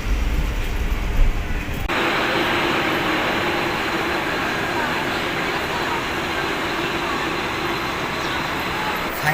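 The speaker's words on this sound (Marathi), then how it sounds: "ठाणा स्टेशनवरून आम्ही ट्रेन पकडली पनवेलला यायला" A suburban train from Thane to Panvel rolls along, a steady loud rumble and roar of wheels and carriage noise that starts after a brief quieter moment and holds evenly throughout.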